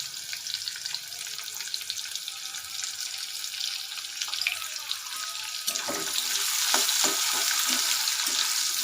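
Chopped onion frying in mustard oil in a wok, a steady broad sizzle that grows louder and denser toward the end, with a few stirring clatters near the close.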